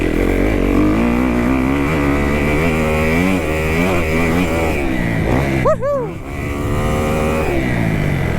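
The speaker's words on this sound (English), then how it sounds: "I'm really trying to get the hang of downshifting and brake tapping." Motocross dirt bike engine on a track, revving with shifting pitch that rises and drops through several downshifts, close and loud, with a sharp rev burst near the end and voices mixed in.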